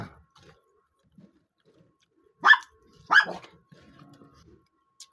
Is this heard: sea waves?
no